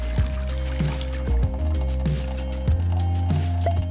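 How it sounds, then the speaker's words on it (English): Water pours through a dustpan used as a funnel into a large bucket, a steady splashing stream that stays close and loud throughout, with musical tones running underneath. "This thing can just funnel the water into the giant bucket."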